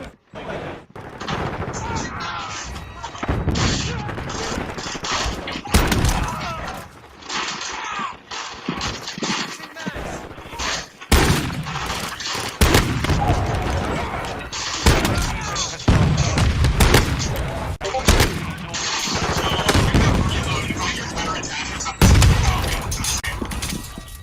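Modern Warfare 2 gameplay gunfire: repeated sharp shots and bursts crack over a busy, noisy battlefield mix, some close and loud, scattered unevenly across the stretch.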